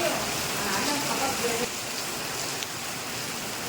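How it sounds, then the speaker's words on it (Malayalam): A continuous broadband wash of rain, moderately loud and steady, with a few faint background sounds underneath. "ഇവിടെ നല്ല മഴയാണ് ഞങ്ങൾക്ക് ഈ ഈ വർഷത്തെ ആദ്യത്തെ മഴയാണ്"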